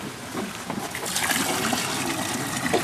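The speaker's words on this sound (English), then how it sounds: "Now put the water in the little trough over there." Water from a well bucket splashes and gushes into a trough nearby in a steady, slightly uneven stream that grows fuller partway through.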